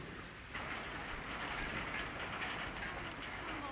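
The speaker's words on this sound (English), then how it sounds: "looks as if we're in for a summer storm." Steady rain from a summer storm hisses as a broad, even wash, picking up after a brief lull and holding at a moderate, constant level with no voices over it.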